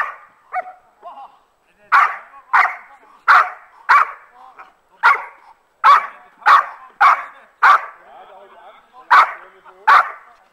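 A dog barks in loud, evenly spaced bursts during VPG protection training, a dozen or more sharp barks in a steady rhythm close by, with a few softer yelps at the start.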